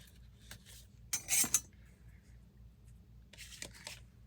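Paper being trimmed along a crooked gusset fold of a handmade journal, a short burst of close, crisp cutting and rustling, with a few lighter paper sounds before and after.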